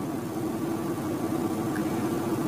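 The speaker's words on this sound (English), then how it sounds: "we'll try it with the engine running" A Ferrari engine idles steadily in a close, even, low rumble that holds constant, with no voices.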